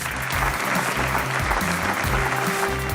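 A crowd at an Oxford University convocation ceremony claps steadily, a dense, sustained applause that fills the full three seconds at even loudness.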